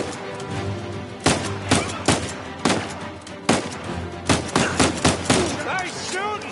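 Gunfire in the video game Uncharted 4 comes as sharp shots and short bursts at irregular intervals over a background of rumble and faint game voices.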